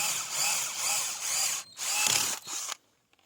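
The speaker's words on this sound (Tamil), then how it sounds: "எப்போவுமே நம்ம 16 mm ட்ரில் பிட்டு யூஸ் பண்ணி தான் ட்ரில் போடுவோம்" A power drill with a 16 mm bit whines loudly in several bursts while drilling a pipe for sugarcane drip irrigation, pausing briefly between them, then stops abruptly.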